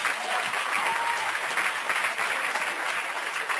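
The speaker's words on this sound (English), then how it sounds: "So it's got a bunch of people hooting and clapping" Recorded crowd applause fills the whole stretch, a dense, even wash of many hands clapping with scattered hoots from the audience, steady and loud throughout.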